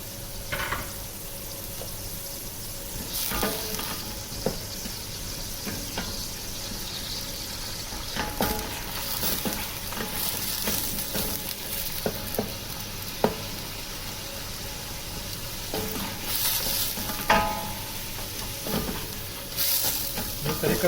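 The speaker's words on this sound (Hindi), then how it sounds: "प्याज को हमने हल्का ब्राउन करना है।" Onions frying in about a cup of oil in a pan for lentil and onion rice, a loud continuous sizzle with frequent clattering stirs and scrapes close by, no talking.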